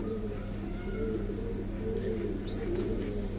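Giribaz pigeons coo in a steady, low murmur under a continuous hum, with a few soft chirps near the close.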